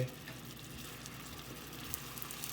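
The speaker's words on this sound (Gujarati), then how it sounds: "લોડીની અંદર એક અડધી ચમચી તેલ મૂક્યું છે અને લોડી ગરમ થાય એટલે બધી પેટીસ સારી રીતે" Patties fry in a little oil on a hot griddle, giving a soft, continuous sizzle with faint crackles throughout and no talking.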